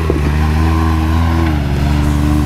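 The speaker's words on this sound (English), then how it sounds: "And this is what you do with a Can-Am on a hiking trail." A Can-Am off-road vehicle's engine revs loudly and close on a hiking trail, a steady throaty drone with pitch rising and falling briefly near the start.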